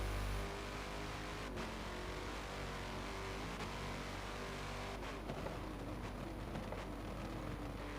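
A Chevy race car's engine in the Forza racing game at Laguna Seca, droning steadily and loudly throughout with sustained high revving and small shifts in pitch, alone with no speech.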